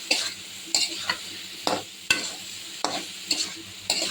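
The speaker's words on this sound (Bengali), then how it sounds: "কলিজা রান্না করতেছি একটুখানি" Liver stir-fried in a pan with onion and chili, with a close sizzle and repeated scraping stir strokes every half second or so, irregular and fairly loud, with no voices.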